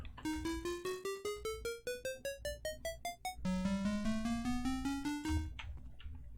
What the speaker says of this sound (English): Block of emerald for the bit sound